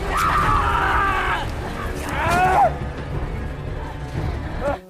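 A man screams in pain in a horror-thriller film scene, loud anguished cries with rising and falling pitch, followed by a crash-like burst and further strained vocal sounds.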